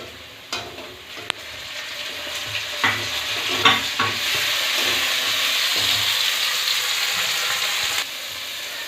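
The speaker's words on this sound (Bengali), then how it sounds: "এবারে দিয়ে দেবো টমেটো কুচি।" Chopped tomato hits hot oil with fried onion, ginger and garlic paste for a rajma curry, giving a loud, close, steady sizzle. A few spoon knocks and scrapes punctuate the frying early on.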